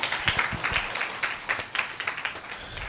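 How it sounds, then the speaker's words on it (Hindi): A live audience claps hands in a brief burst of applause, dense overlapping claps continuing steadily for a few seconds at moderate distance, with no talk over them. "ताली बजाओ"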